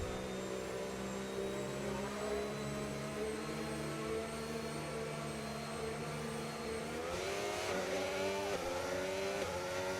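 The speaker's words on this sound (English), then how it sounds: "As the race is restarted then, and Ray gets a decent restart" Racing cars in an F1 video game at the United States Grand Prix pull away from a safety-car restart, a steady layered engine drone that rises in pitch as the pack accelerates, loud throughout.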